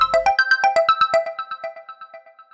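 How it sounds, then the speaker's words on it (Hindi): Cartoon phone ringtone, a bright repeating electronic melody of quick beeping notes that rings loudly and then fades away over a couple of seconds, with no voices. "लगता है ये उसी किडनैपर का फोन है।"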